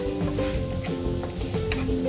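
Garlic frying in melted butter in a frying pan, a dense, even sizzle heard up close with faint stirring scrapes.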